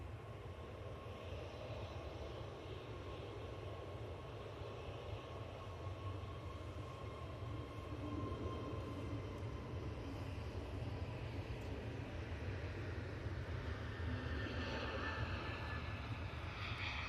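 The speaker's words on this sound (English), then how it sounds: "we're on the roll with this A321neo" An Airbus A321neo jet accelerates on its takeoff roll, a low, distant engine rumble and rolling hum slowly growing stronger, heard faintly from inside the cabin.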